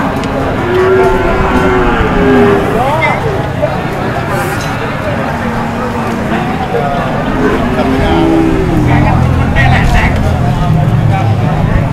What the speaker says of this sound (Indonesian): Dan sapi-sapi pekon.